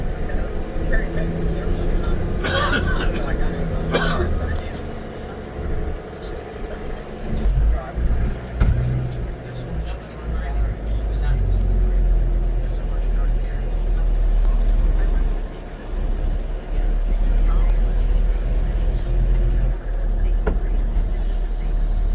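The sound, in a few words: riding inside a bus in Nassau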